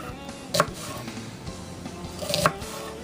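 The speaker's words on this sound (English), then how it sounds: "I think I'm going to leave my onions in little rings" A knife slicing onions into thin rings on a cutting board for a gnocchi dish with butternut squash and sausage, giving two distinct clusters of crisp chops against a quiet kitchen background.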